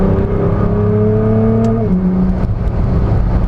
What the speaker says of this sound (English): And this is twin turbo if you don't know. And that boost hits really quick.